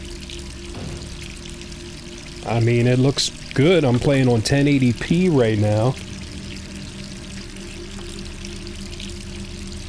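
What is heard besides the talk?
water running from a tap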